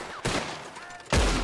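Gunfire erupts during a shootout in the video game Red Dead Redemption 2: two loud, close blasts come about a second apart, each followed by a short ringing tail, with no talking over them.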